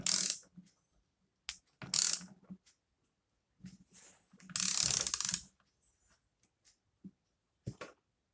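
A screw being driven into an AM6 moped engine with a ratcheting tool: short, close clicking bursts separated by silences, with a few isolated faint ticks.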